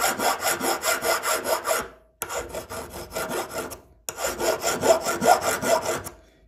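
A hand file rasps against the cutting edge of a nail clipper to sharpen it. Three bursts of quick, regular back-and-forth strokes come with short pauses between them, close and clear.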